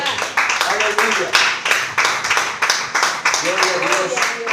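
Congregation clapping in a church service, a dense, steady patter of many hands with rhythmic pulses, continuing under a speaking voice.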